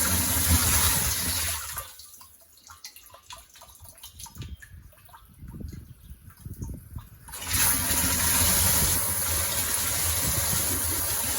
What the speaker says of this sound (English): now we've got water going into this tank